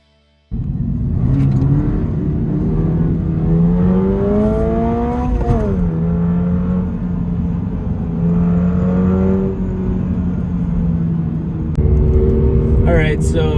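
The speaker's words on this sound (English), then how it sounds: "that engine buzzing is a little horrendous" A 2022 Subaru BRZ's engine drones steadily while driving, a loud continuous buzz whose pitch rises and falls with revs. Someone talks over it throughout.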